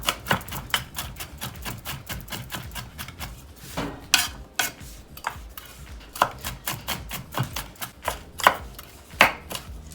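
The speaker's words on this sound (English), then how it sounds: "Make sure you use a sharp knife because it makes it so much easier." Sharp knife chopping onion on a board for Southern cornbread dressing with chicken, a fast, steady run of close, crisp knife strikes with brief pauses, no voices.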